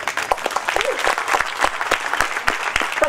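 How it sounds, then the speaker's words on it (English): Loud applause from a crowd, steady clapping that fills the room without pause. "join us with a big applause for all of them"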